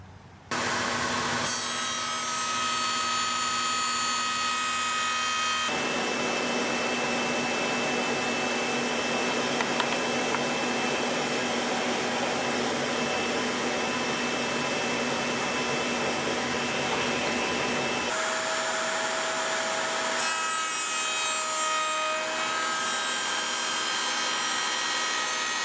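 A router on a router table cuts rabbets into wood for a cornhole board build, a steady loud whine running continuously with shifts in pitch as the cut changes, no talk.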